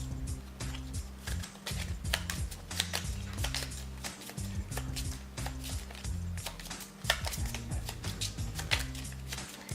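Game cards for the Viking Gone Wild: Master of Elements board game being shuffled, a dense run of rapid riffling clicks and flutters with brief pauses, close and fairly loud with no talking.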